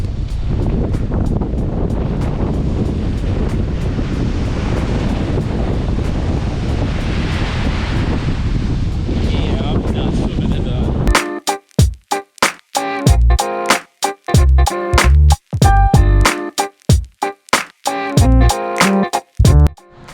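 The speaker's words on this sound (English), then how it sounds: "I just want to show you how rough the sea is today. Just how windy it is." Strong wind and rough sea waves roar continuously at sea beside a ship's deck, with heavy buffeting wind noise, then a stretch of sharp, irregular bangs and thumps that burst loudly and drop away in quick succession.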